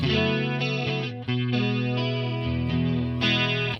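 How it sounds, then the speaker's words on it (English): Electric guitar played through a chorus effect pedal on a pedal board, sustained chords ringing with a shimmering, swirling tone, loud and close, alone without talk. "Let me show you that chorus."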